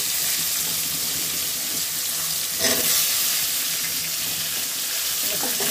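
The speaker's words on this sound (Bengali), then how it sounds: "আমরা সবজিগুলো ছেড়ে দিব এখন।" Mixed vegetables fry in a pan with oil, making a steady close sizzle and hiss with a brief louder splash partway through, with no clear speech.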